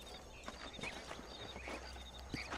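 Horses in the Red Dead Redemption video game, their hooves clip-clopping at a steady walk with faint game ambience, quiet and without talk.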